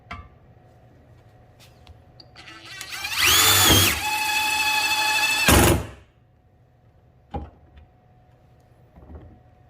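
An impact drill boring into steel plate gives one loud whining burst of about three seconds that rises and then drops in pitch as the bit bites. Faint taps and handling knocks come before and after it.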